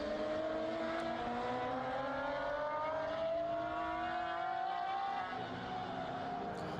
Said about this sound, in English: They make a great sound, these cars, actually.